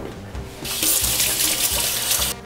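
Water pours steadily from a kitchen tap, close and loud, running continuously for about two seconds after a short lead-in of softer sounds.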